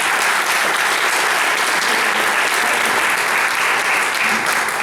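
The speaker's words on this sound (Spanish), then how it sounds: "aplauso para Pedro Juan," A festival audience at Hay Festival applauds loudly and continuously, dense clapping filling the room at an even level from start to finish.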